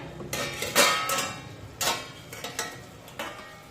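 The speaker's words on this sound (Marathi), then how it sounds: "आता साधारण 2 ते 3 मिनिटांनी कढईवरचं आपण झाकण काढूया" A metal lid comes off a kadhai with a clank, then a spoon stirs radish pod vegetables inside it, giving close scraping clinks and a few sharper knocks, with no speech.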